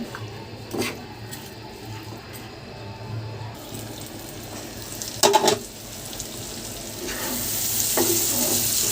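Dried fish frying in oil in a pan as it is stirred, a steady sizzle broken by a few scraping clinks of the spoon against the pan, close and alone without talk.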